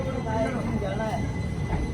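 The Sabarmati Daulatpur Chowk Express pulls out of Abu Road station with a steady rolling rumble and faint wheel squeals. A voice speaks over the train noise.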